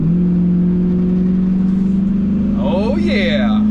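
An old Dodge Ram 2500 pickup, about 23 years old, accelerates while towing a trailer, its steady low engine drone swelling near the end with a rising whine, heard from inside the cab.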